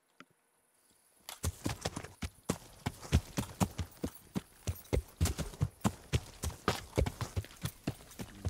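Horse hooves clip-clop in a steady, quick rhythm in the video game Kingdom Come: Deliverance, at night, starting after a short quiet moment and continuing throughout, moderately close.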